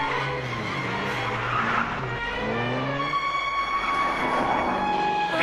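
Auto-rickshaw turning around sharply in a Hindi-dubbed action film chase, tires skidding with a screeching squeal over engine noise, sustained at moderate loudness for several seconds.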